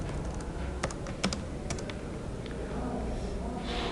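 Keys on a computer keyboard are struck a handful of times while typing minus signs in Microsoft Word 2016, crisp close clicks in a quick cluster, then a quiet room.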